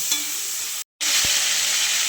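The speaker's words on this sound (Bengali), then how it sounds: "এবার চিংড়ি মাছগুলো ভেজে নেব" Steady loud sizzling of shrimp frying in hot oil, briefly cutting out for a moment before resuming just as strong.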